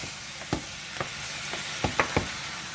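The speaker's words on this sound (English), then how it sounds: "And now I'm gonna stir it." A pot of creamy chicken, sausage and spinach pasta gets stirred over steady low sizzling, with five or six distinct scraping clicks of a spoon against the pot, nearby and fairly soft.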